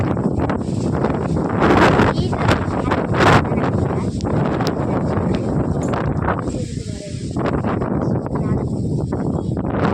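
Gusty outdoor wind buffets the microphone in uneven rushing bursts, with rustling and a brief calmer dip near the end.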